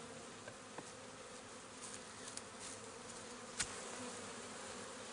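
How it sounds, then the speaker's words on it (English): Honey bees from a disturbed Langstroth hive during a honey frame harvest buzz as a faint, steady drone close around, with a few small knocks and clicks from handling and no talk. "That's how come those bees got so upset."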